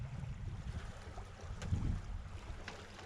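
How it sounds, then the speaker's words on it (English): Wind noise aboard a small sailboat moving at about three knots, the breeze coming from the aft port side, a steady low rumble with faint water wash and no voices. "Wind is coming off the aft port side,"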